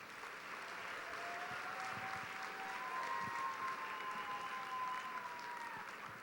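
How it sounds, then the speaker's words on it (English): A banquet audience applauds in a steady, faint wash of many hands, heard from a distance, with a thin high tone drifting over it. "I think you all deserve a round of applause"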